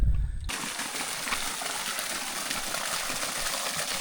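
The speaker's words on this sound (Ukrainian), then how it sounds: "Ось це є нижній водоспад." Steady rushing water pours without pause, a dense, full hiss of a waterfall close by on the Dniester river, starting after a brief quieter moment.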